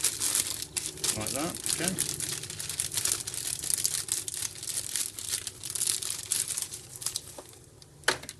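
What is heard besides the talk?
ripping open plastic packaging of Subaru cabin filter inserts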